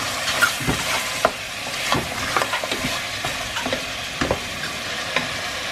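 Ginger paste fries in a pan with a steady sizzle, while a spoon stirs and scrapes it in irregular bursts, close up and without talk.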